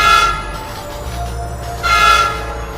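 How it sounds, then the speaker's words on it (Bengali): Cartoon train sound effect from a horror story: a train approaches with rumbling wheels, and a horn blares twice, near and loud, as it pulls in and stops. "আমি একটু অপেক্ষা করতে দেখলাম একটি ট্রেন আসছে। ট্রেনটি এসে দাঁড়ায়।"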